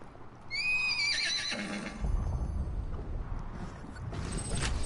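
Butt Stallion, the horse in the video game Borderlands 2, gives a loud, high whinny that shakes and descends, followed by a low rumbling and soft mechanical clatter.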